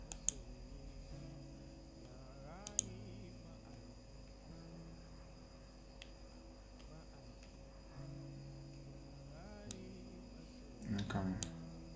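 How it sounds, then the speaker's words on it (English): Sharp, quiet computer mouse clicks come in scattered single and double taps against a low hum, with a few faint bursts of other desk noise. "So if I click here, click here"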